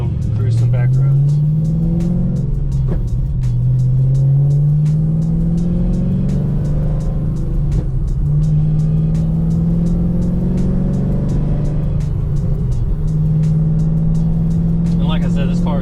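Fifth-generation Chevrolet Camaro ZL1 with its stock active exhaust, cruising on back roads: a loud, close engine drone climbs in pitch through repeated pulls, with brief dips at gear changes.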